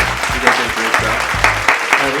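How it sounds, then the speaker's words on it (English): An audience applauds the helpers with loud, close clapping, rhythmic rounds of claps pulsing at roughly half-second intervals, with voices mixed in. "Let's give a round of applause to our helpers here."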